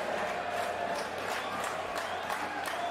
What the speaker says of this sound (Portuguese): Ó, aplausos.